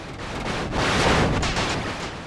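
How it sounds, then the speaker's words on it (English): Gunfire and explosions from the Atari Lynx vehicle-combat game Battle Wheels, a dense, continuous burst of crunchy noisy blasts that swells in the middle, loud and with no talking. "There's ricochets, gunfire, the sound of you running over wreckage."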